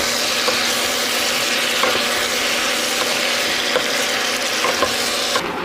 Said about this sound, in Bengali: টমেটোগুলোকে নাড়াচাড়া করে নিয়েছি